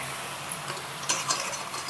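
Puffed rice for uggani being stirred in a pan on the stove, a soft scraping and rustling with a few light clinks of a spoon against the pan, close and fairly quiet, with no talking.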